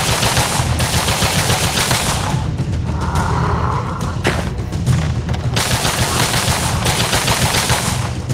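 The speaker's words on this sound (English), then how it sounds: "We're doing some machine gun style" Sustained machine gun fire in the VR shooting game Gun Club VR, a loud, continuous rattle of rapid shots with heavy low thumps that briefly thins mid-burst before roaring back at full density.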